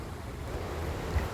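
Night ambience at Losari Beach: a steady, fairly quiet wash of waves and wind, broad and continuous, with no distinct voices standing out.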